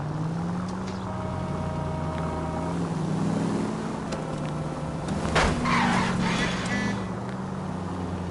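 In the video game L.A. Noire, a car's engine drones and its tyres screech in a skid under braking, with a sharp burst of noise midway, all over a steady rumble.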